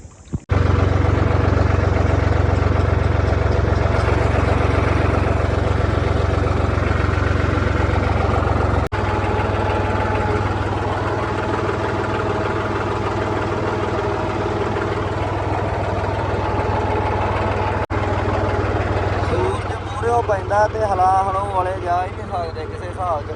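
A tractor engine runs steadily at a low idle-like drone in a paddy field being prepared for puddling, loud and near throughout, with someone talking over it.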